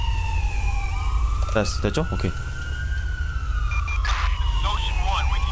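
Ambulance siren in the video game GTA V, police mod. A loud wailing siren sweeps up and down continuously, and brief voices speak over it.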